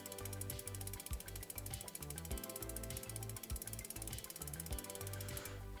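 Bicycle freewheel ratcheting as the pedals are turned backward while a rag wipes the chain clean; fast, close, continuous clicking in a pulsing rhythm, quiet overall, with no talk.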